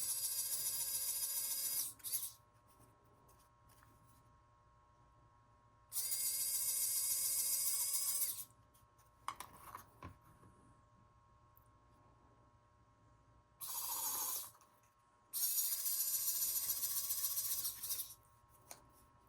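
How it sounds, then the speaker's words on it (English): A drill bit bores a small hole through a wooden earring in three loud high-pitched whirring bursts of about two to three seconds each, with quieter handling noises and faint clicks in between. "So I have my drill bit, and I'm just going to go right under, and I am going to drill another hole."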